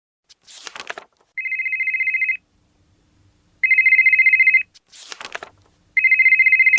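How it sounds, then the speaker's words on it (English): A telephone rings in repeated electronic bursts: short fluttering trills alternate with steady, loud tonal rings, close and clear, with near silence between them. "Do you mind turning off your phone?"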